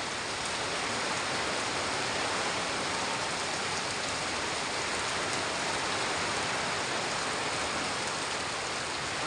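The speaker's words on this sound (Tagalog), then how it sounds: "Malakas yung ulan po natin dito sa Balaba Biglang Sibol." Heavy rain pours down steadily in Balaba, a dense, unbroken hiss of water that stays loud and even throughout, with no voices heard.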